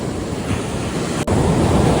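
Steady roar of ocean surf breaking on a beach, a dense continuous wash of water with wind buffeting the microphone, loud and close with no voices.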